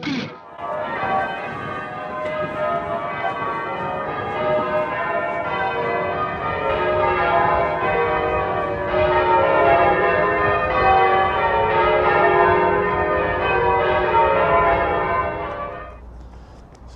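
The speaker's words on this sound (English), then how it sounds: "I love the sound of the bells, the church bells on a Sunday" Church bells of Gloucester Cathedral pealing on a Sunday, a dense overlapping cascade of ringing tones sustained loud and steady for the whole stretch, with no voices over it.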